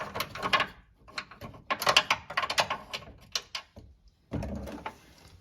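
A socket wrench working a radiator bolt on a 2007-2021 Toyota Tundra, rapid clicking ratchet bursts in uneven runs, close and fairly loud, with short pauses and a metallic rattle near the end.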